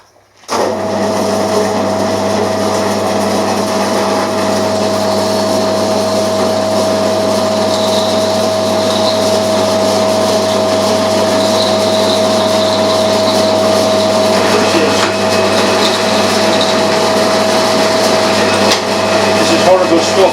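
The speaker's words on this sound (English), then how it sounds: "It's a 5mm cobalt drill and it's not really making a great impression on it." A 5mm cobalt drill bit boring freehand into super duplex steel, a sustained whining hum with a steady tonal drone and grinding texture running continuously at close range after a brief start.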